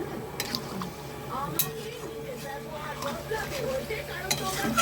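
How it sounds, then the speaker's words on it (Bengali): A pot of chicken curry with potatoes and water is stirred, a spoon clinking and scraping against the pot over a low bubbling simmer, up close, with faint background sounds. "নেড়ে নিচ্ছি।"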